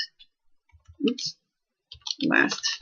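Keys clicking on a computer keyboard as a word is typed into a form label field, in a few short bursts of close, crisp taps with brief pauses between.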